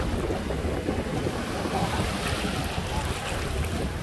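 Steady wash of sea waves at Vung Tau beach on a quiet evening, continuous and fairly loud with wind rumbling across the microphone throughout.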